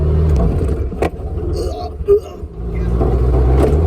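A 1972 VW Beetle engine idles low and loud close by, rumbling steadily with a brief dip and a short revving bump midway before settling back to a steady run.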